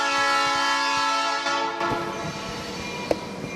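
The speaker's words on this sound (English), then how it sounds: "we're going to wait for the train" A train passing with its horn sounding long and loud at first, then fading into the rumble and clatter of the railcars rolling by close at hand.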